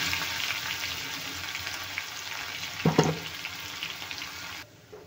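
Asafoetida and crushed garlic sizzle in hot oil for a Marathi-style tomato toor dal, a steady close frying hiss with a brief louder crackle and stir near the middle before the sizzle drops away at the end.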